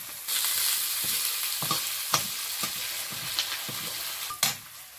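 Onion, whole garlic cloves and bay leaf frying in oil give off a steady sizzle, with scattered stirring clicks and scrapes and a louder clack near the end.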